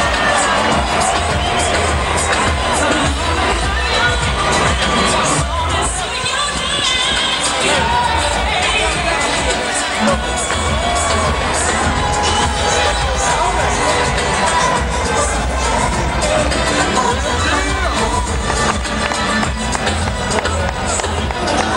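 Boxing arena crowd cheering and shouting before the Holyfield versus Ruiz heavyweight fight, a loud continuous roar of voices that lasts throughout, with a commentator talking faintly underneath.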